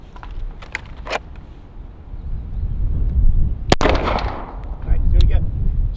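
Gunshots ring out during a carbine-to-handgun transition drill on a shooting range, a few sharp reports with one loud close crack standing out, over a background of ambient noise.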